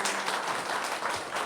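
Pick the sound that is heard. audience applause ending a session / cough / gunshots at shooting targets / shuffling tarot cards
audience applause ending a session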